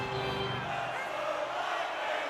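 An arena crowd at an NHL 26 hockey game keeps up a steady, lively roar with scattered cheers, heard from a distance and unbroken throughout.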